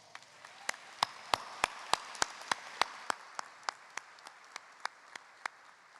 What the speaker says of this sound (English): Please let's give our staff a round of applause.